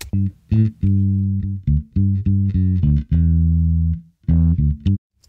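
An uncompressed bass guitar plays a steady line of deep, round notes, some short and punchy, others held, with brief gaps between phrases.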